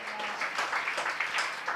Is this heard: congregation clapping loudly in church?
yes